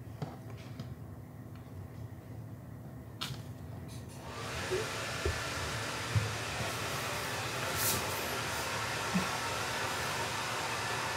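A hair dryer blowing on a cat indoors at home switches on partway through and then runs as a steady, close whooshing roar, with a few faint clicks and knocks in the room.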